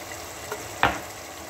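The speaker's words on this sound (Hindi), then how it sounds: "चलिए अच्छी तरह से भून लेंगे इसको।" Ground spices (coriander powder, cumin powder, garam masala and kasuri methi) are stirred and fried in a pan for Kashmiri chicken masala, with one short, close sizzling scrape over a quiet background hiss.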